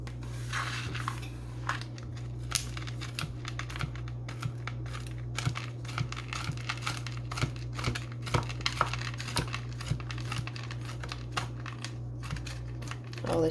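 Fresh ginger being cut with a knife in a home kitchen during jam preparation, giving a run of small, fairly quiet dry crunching and scraping taps over a steady low hum, with no talking.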